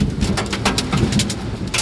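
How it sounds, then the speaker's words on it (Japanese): Hail pelts a car body and the ground during a sudden guerrilla downpour in Hanyu, Saitama, a dense steady patter of sharp ticks and cracks over a rushing rain bed. "氷が降っております。 バチバチ音が鳴っております。"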